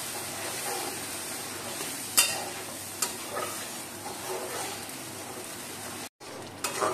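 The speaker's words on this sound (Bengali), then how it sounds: "এবার মশলাটা আমি ভালো করে কষাই" Onion-tomato paste with masala sautés in a pan, giving a steady close sizzle with occasional scraping stirs from a spatula, for a pomfret jhal.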